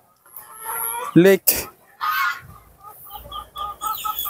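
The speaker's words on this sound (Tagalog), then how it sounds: "Meron pang nangingitlog na mga manok." Egg-laying chickens cluck and squawk at close range in short bursts beside a lakeside cafe in Ubay, Bohol, with a voice talking in between.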